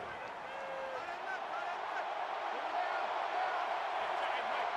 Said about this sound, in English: The crowd really making it difficult.